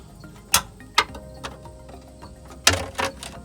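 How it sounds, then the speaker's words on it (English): A crowfoot wrench on a long extension tightens a brake line fitting on a Chevy Avalanche, giving a few sharp metallic ratchet clicks and knocks spaced irregularly over a quiet background, close to the listener. "I'm using that crowfoot wrench to tighten down on this"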